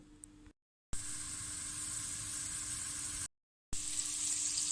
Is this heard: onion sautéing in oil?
yes